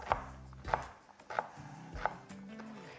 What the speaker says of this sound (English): now you're going to turn it so you're on the ring side and cut it the other way